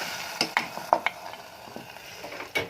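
Hot browned garlic sizzles as it is poured onto okra in a pot, in an Upper Egyptian home kitchen: a few quick bursts of frying hiss and light clinks, close by and with no talking.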